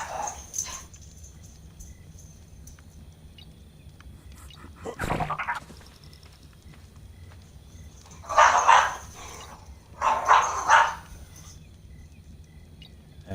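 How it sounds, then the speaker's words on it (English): Two dogs, Daisy and Bridget, wrestling and playing together, giving off a few sharp bursts of yips and growly vocal noise against a quiet background, with a thud midway. "Daisy and Bridget, one of my other dogs, having some fun wrestling and playing with each other"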